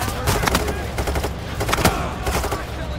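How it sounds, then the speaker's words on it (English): A grenade blast in the heist shooter Payday, lost among a heavy, continuous fusillade of gunfire with sharp bursts throughout; a faint voice may sit underneath. "Throwing a grenade."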